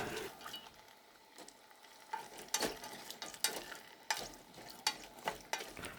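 Green pepper cooks in a pan for pepper steak, with a soft, steady sizzle broken by repeated scraping stirs and clatter of a utensil, close and fairly quiet, no voices.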